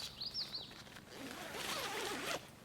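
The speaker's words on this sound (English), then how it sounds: "Make sure that the zipper is operational." A backpacking tent's zipper is pulled in a couple of quick close rasping strokes, loud and alone.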